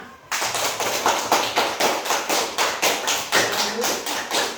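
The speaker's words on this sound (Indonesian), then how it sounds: "Tepuk tangan" Classroom applause from a group of fifth-grade primary school students after a group presentation, a steady, fairly loud patter of claps with rhythmic surges, continuing without talk.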